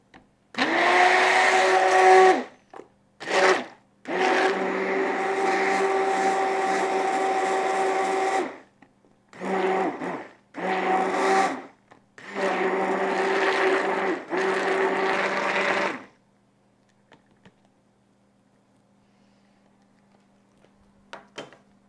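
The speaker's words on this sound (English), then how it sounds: "I'm going to use actually an immersion blender" An immersion blender whirs loudly in several bursts of varying length while frothing gelatin, stopping and restarting, then falls silent for the last few seconds.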